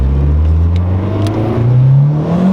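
Boosted car pulling hard in first gear, engine revving steadily upward in pitch, loud and close with a continuous throaty drone and slight clatter.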